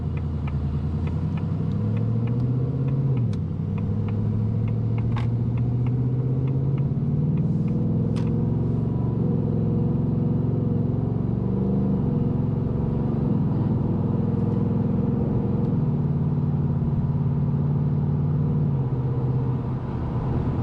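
A 2024 Ford Mustang GT Premium cruising on a hot summer road, its V8 engine a steady low rumble with the pitch rising and falling through gear changes, continuous and close from inside the car.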